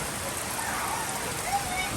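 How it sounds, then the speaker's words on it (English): Rain falls outdoors by a backyard grill and pool, a soft, steady hiss of drops spread evenly through the whole brief moment. "It's raining."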